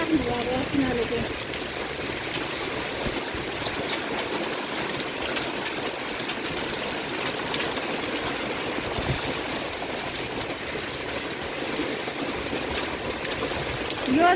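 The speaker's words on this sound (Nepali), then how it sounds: "यो पानी चाहिँ कति चाहिँ पर्छ त प्रभु कत्रो कत्रो थुप्ला पर्दैछ त पानी त" Heavy rain mixed with hail pours down in a dense, steady roar of falling water that fills the whole stretch without letting up.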